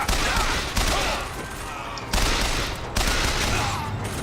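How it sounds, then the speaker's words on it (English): Enemy gunfire aimed at the player in Bioshock Infinite near the Good Time Club in Finkton, dense bursts of rapid shots coming in several loud waves, each flaring up and then easing off. "the moment you get close to it, everything starts shooting at you"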